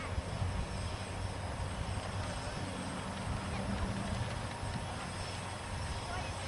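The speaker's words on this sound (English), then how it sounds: "under the hands of Bernie Vasquez, we'll see a full aerobatic performance of the mighty Jug, as they called it." A P-47 Thunderbolt fighter, the 'Jug', flies an aerobatic routine at the AirVenture airshow, its propeller engine giving a steady, fairly loud droning roar throughout, with voices faintly beneath.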